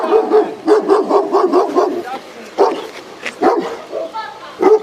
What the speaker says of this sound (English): I'll keep the dog. Don't hurt the dog.